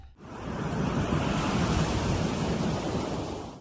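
Ocean waves wash steadily onto a beach, a continuous broad rushing surf with a slight windy hiss, fading in at the start and cutting out at the end, with no voices.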